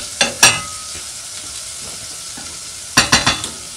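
Vegetables fry in a pan for spam fried rice: short bursts of stirring and sizzling at the start and again near the end, with a quiet, faint sizzle in between.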